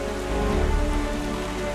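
Steady, loud rain pours throughout on a dark night in The Wind Waker HD, a dense even patter with a low rumble beneath and no talk.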